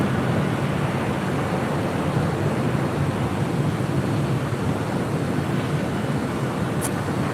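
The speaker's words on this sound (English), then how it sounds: "That was United Airlines Flight 230 coming in from London on the 787-9 Dreamliner" A United Airlines 787-9 Dreamliner arriving at LAX, heard as a continuous, loud broadband jet roar that holds steady for several seconds without talk.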